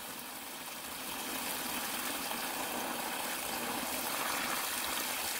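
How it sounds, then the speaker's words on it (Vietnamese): High-pressure water blasts from a pump hose, a loud continuous rushing gush that builds after the first second and then holds steady, with an engine droning underneath. "Như vậy mới gọi là xả nước chứ."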